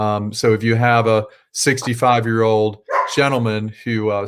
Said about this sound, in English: sorry about my dog, you might hear some barking.